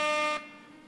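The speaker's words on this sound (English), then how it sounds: "You get the DJ air horn as well." A DJ air horn sound effect blasts as a single short, loud, brassy burst that cuts off abruptly and leaves a brief fading tail.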